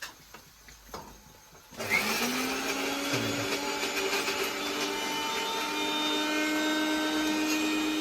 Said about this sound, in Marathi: तर मिक्सरचा आवाज येत असेल